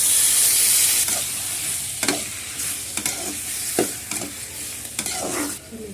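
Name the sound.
tomatoes frying and stirred with onions in a pan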